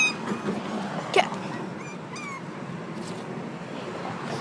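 A young puppy gives a faint, high whimper over steady background hiss, one brief soft cry standing out against quiet indoor ambience.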